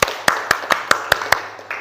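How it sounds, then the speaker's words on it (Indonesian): Brief applause for a student in a classroom lesson, about eight sharp, evenly spaced hand claps from a single nearby clapper, loud and clear with no talk. "Tepuk tangan untuk Fauzia."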